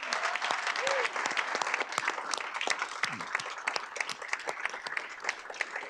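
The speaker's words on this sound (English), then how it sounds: "If you could give them a round of applause." Round of applause at a board of education business meeting, a full room clapping steadily and fairly close for several seconds, with faint voices and a brief tone under the claps.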